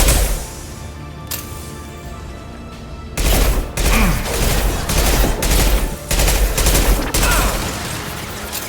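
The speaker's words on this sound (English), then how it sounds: "Firing concussive shots!" Concussive shots fired in a video game, a series of loud, sharp booming blasts coming in quick succession after a quieter opening stretch, with rumbling impacts between them.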